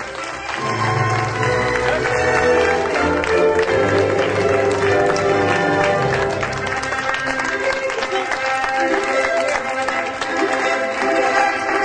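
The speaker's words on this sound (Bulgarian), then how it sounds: "нека с много ръкопляскания посрещнем младото семейство в този великолепен паметен за тях ден" Wedding guests applaud the newlywed couple as they arrive, producing dense, continuous clapping from a large crowd that stays loud throughout, mixed with cheering and voices.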